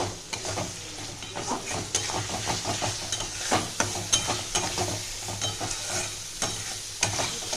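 Mutton with salt and cumin powder is stir-fried in a pan for a thin potato-and-papaya jhol, with rhythmic spoon scrapes and clacks over a continuous close sizzle.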